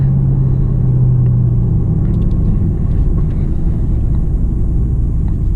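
A 2015 Camaro SS 1LE rolling on freshly fitted tires, a loud, steady low engine and road rumble from inside the cabin that holds constant throughout without talk.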